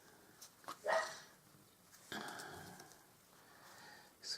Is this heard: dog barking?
yes